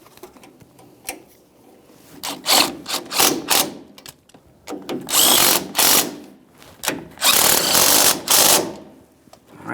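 Cordless power tool whirring in short and longer bursts while snugging a control arm mounting nut on a 2015-2020 Ford F-150, loud and close, with stuttering impact-like pulses between pauses.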